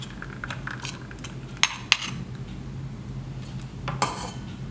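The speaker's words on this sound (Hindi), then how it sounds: "अब इसे एक बड़े बर्तन में निकाल लेंगे और उसमें ठंडा पानी मिक्स करेंगे।" Metal utensils clink and scrape against a large cooking pot while mango pulp for aam panna is transferred, with a few sharp knocks over a low kitchen background.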